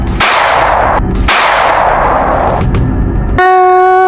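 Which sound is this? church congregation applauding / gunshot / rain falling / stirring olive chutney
gunshot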